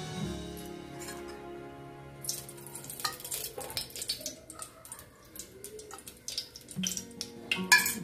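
Oil heats in a cooking pot for crab curry, with a faint sizzle alongside clattering and scraping of utensils against the pot that grows busier toward the end, with some tonal background sound early on.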